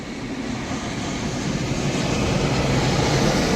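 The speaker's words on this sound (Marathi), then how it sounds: "हे बघा आलं लँडिंग. इंडिगोचं आहे." An IndiGo airliner descends to land at Mumbai airport, its engines a broad, steady roar that swells gradually louder as it nears, heard alone without voices.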